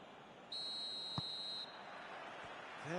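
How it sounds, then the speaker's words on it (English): Referee whistle in the football video game PES 2021 on PS4, a single sustained shrill blast lasting about a second, moderately clear over a low crowd murmur, followed by a brief thump. "There's the whistle."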